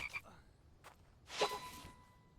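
A frog croaks in the survival video game The Infected, giving a few short, close croaking calls with a faint whoosh between them, fairly quiet overall.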